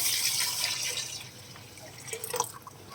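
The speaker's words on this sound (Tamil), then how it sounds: "மிக்சி கப்ல உள்ள தண்ணியை நான் சேர்த்துக்கிறேங்க" Water poured from a mixer grinder jar into a cooking pan while making vada kuzhambu, a soft splashing trickle with a few drips, louder bursts toward the end, no talking.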